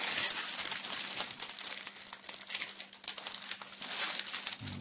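Gold leaf foil rubbed onto leather and then peeled back gently, giving close, continuous soft crinkling and rustling with faint tearing textures throughout.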